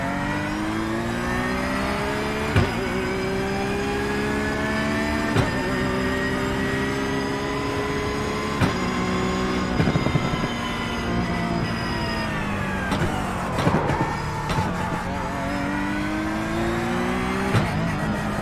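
A Porsche 911 GT3 racing car engine in the iRacing video game revs steadily at high pitch, its tone rising and dropping through gear shifts, with brief sharp clicks, loud and continuous throughout.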